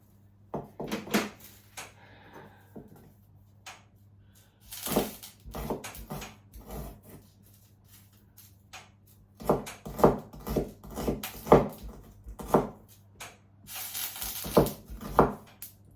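An onion being cut into small pieces with a knife, irregular clusters of sharp taps and chops against a board, close by, separated by pauses, over a low steady hum.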